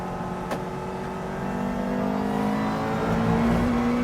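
A GT3 race car on a circuit, its engine droning steadily and building in pitch and loudness as it accelerates, close and continuous with a faint tyre noise underneath.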